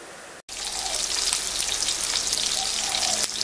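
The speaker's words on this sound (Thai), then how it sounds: "ตอนนี้เราก็เจียวกากหมูนะคะ" Pork cracklings frying in hot oil, a steady dense sizzle with fine popping and crackling that runs continuously after a brief silent gap near the start.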